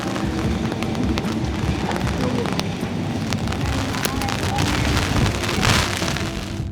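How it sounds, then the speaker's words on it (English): Rain falls steadily in Oslo, Norway, a dense pattering hiss on hard surfaces with occasional sharper drips, continuous and fairly close throughout. "Here's the rain that was coming."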